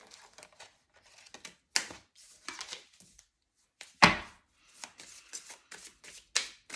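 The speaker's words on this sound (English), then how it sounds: "As I'm shuffling" Tarot cards are shuffled by hand at close range, irregular riffles, flicks and soft slaps with short pauses between bursts, no voices.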